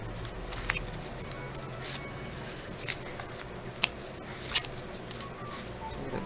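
Tarot cards are shuffled by hand at close range, soft riffling and slapping bursts repeating irregularly over a quiet room hum, fairly faint.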